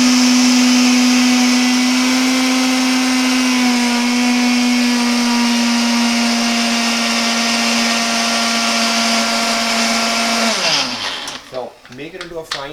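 Blender grinding oats into fine flour, a loud steady high-pitched motor whine held for about ten seconds before winding down and rattling to a stop.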